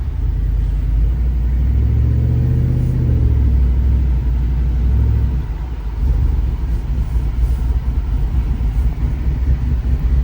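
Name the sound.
pickup truck engine and exhaust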